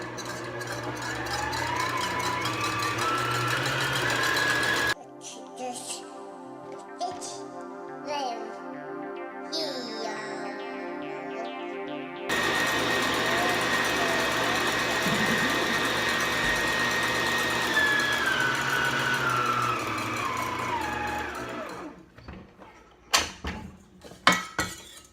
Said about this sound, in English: I also have 2 egg whites, which I will beat up to medium peaks in the mixer.